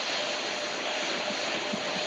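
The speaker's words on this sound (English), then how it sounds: "Where'd the plane going?" A steady, broad roar of an airplane passing overhead, continuous and moderately loud with no voices.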